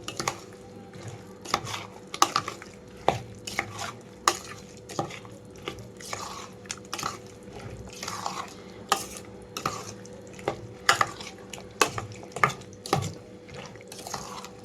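Oil is stirred into a moong dal avakaya pickle in a steel bowl, with a steady wet churning and frequent light metallic knocks and scrapes of the utensil against the bowl, and no voices.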